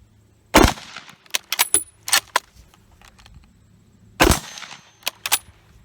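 A 1917 Eddystone rifle chambered in 30-06 fires two sharp, loud shots several seconds apart, each followed by quick metallic pings and clanks as rounds strike a steel target.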